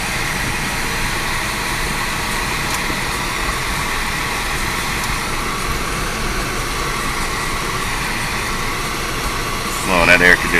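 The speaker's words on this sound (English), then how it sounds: "Oh, and that air conditioner is so nice right now." Steady, even whir of the air conditioner inside a Daihatsu Atrai van, a constant broadband hum with engine rumble underneath that holds for about ten seconds, followed by a brief louder rustle near the end.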